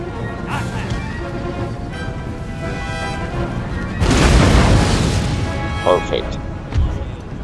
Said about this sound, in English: Alright, cannons fire down the middle.